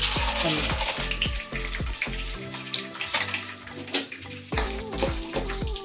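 Chana dal fries in hot oil in a pan, making a steady, close crackling sizzle with bursts of bubbling, and there is no talk.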